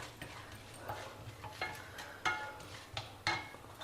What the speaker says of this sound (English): fry till the dals become a golden color